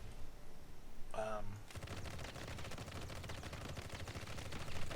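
Rapid automatic gunfire rattles steadily in the Marvel Heroes video game, playing the Winter Soldier alongside Doctor Doom, a brief electronic ability sound first, then a dense continuous burst of shots with a voice faintly underneath.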